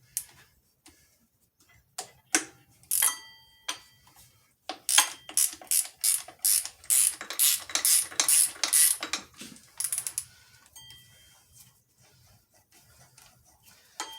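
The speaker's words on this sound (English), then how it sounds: "That's a nice little ratchet they have." A small ratchet with a swivel ball works bolts loose on a Jeep 4.0 engine, sparse clicks at first, then dense rapid bursts of sharp ratcheting, close and fairly loud, tapering to scattered ticks.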